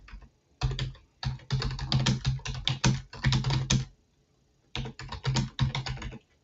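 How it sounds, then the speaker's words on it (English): Rapid, close-up typing on a computer keyboard in dense bursts of clattering keystrokes, broken by a couple of brief pauses, with no voices. "I'm typing so fast that I missed the B."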